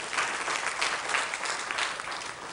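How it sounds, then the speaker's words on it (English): An audience at a Ramleela conference applauds the young presenters, a dense, fairly loud burst of clapping that holds steady throughout. "may I have once again applause for both young"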